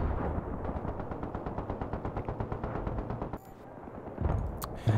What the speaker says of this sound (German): Wird links geschossen, was ist denn da los?